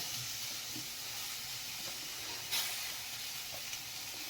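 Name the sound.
cabbage added to pan, sizzling while cooking atta noodles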